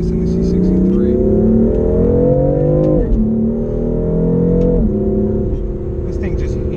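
A 2020 BMW M4 accelerates flat out as its turbo boost kicks in. The engine note climbs loudly and continuously, dropping at two gear changes before climbing again.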